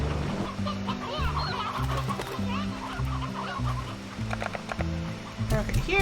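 Chickens and roosters in the Slime Rancher video game cluck in a steady stream of short, chirpy calls over a busy, layered game soundtrack. The clucking runs throughout and stays at moderate loudness.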